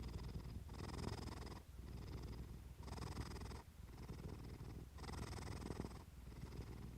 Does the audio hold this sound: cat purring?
yes